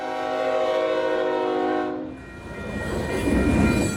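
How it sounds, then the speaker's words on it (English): A freight train horn blares in a long, loud chord through the town of West, then cuts off as the rumble and rattle of rail cars rolling past swell up close. "The train's always coming through here all the time."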